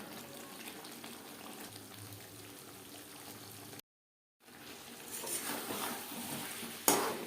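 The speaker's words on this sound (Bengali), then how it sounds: "মশলার সাথে আলু আরও চার পাঁচ মিনিট রান্না করে নেব গ্যাসের ফ্লেমটাকে রাখবো লো টু মিডিয়ামে" Potatoes frying with spices in a pan over a low-to-medium gas flame for a light katla fish curry, a steady soft sizzle with occasional stirring, a brief silent gap midway, then louder sizzling and a sharp clink at the end.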